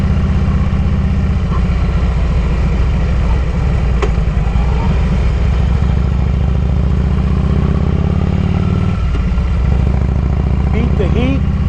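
A Harley motorcycle engine drones steadily while riding, a loud continuous low rumble mixed with wind buffeting from a forward-facing GoPro, with a voice talking over it.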